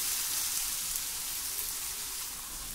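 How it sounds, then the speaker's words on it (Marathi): Watermelon rind thalipeeth roasting in a pan gives a steady, soft hiss and sizzle that runs unbroken throughout, fairly quiet and with no voices. "असे सर्व थालीपीठ मी आता भाजून घेते"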